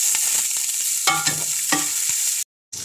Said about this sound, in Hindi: हम प्याज को लाइट ब्राउन कलर होने तक भूनेंगे